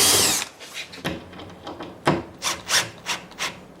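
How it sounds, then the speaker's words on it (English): Brad point bit boring handle holes in a plywood cabinet door, a loud opening burst followed by a series of short, rhythmic cutting pulses close by. "Now with the brad point bit, I drill the holes to attach my handles."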